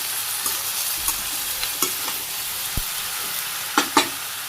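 Vegetables with green chillies and salt being stir-fried in oil in a pan in a Bangladeshi village kitchen, a steady soft sizzle broken by occasional scrapes and clinks of a stirring spoon.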